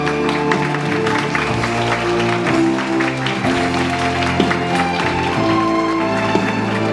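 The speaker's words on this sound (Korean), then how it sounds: "박수 부탁드리겠습니다." Audience applause fills a Creative Talent launch ceremony hall, a sustained steady clatter of many hands blended with background music throughout.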